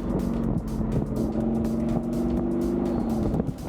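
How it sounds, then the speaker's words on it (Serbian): A car engine revs hard after a downshift under acceleration, a loud steady drone with a rising, vibrating tone that holds for several seconds before easing off at the end, with no talk. "kad ovako prebacite kao ja sad recimo u nižu, dodate gas, tu onako baš većina čula počinje da podrhtava"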